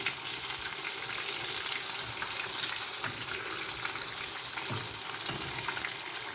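Kayseri-style mantı dumplings fry in a pan of oil with a dense, steady sizzle that stays loud and even throughout, with no talking over it.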